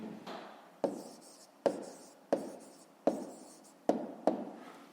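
A pen scratches across paper in short strokes, with six or seven sharp starts each trailing off into softer scribbling, close and quiet.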